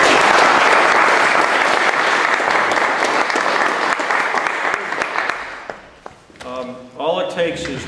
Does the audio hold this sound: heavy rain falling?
no